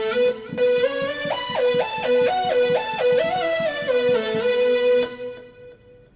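Triangle lead and big trance lead synths layered in Omnisphere for a worship song keyboard part, playing a bright, stepping melody over pulsing chord notes, steady and full, then ringing off at the end with no voices.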